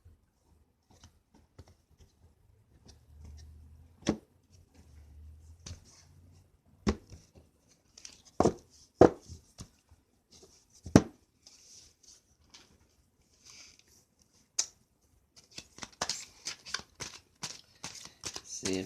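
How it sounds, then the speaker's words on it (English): A deck of oracle cards is cut and shuffled, giving sparse soft taps and card slaps, then a quicker run of crisp riffling flutters toward the end, close and fairly quiet. "Let me cut the deck."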